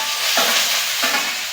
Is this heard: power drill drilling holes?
no